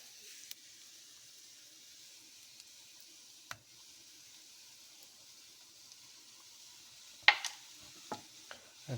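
Shrimp paste frying in a pan while making homemade beef chili paste, a faint, quiet sizzle broken by a few sharp clicks and scrapes of stirring near the end.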